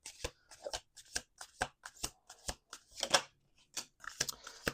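Tarot cards being shuffled in quick, crisp riffles, a steady series of sharp flutters close by with brief gaps between them.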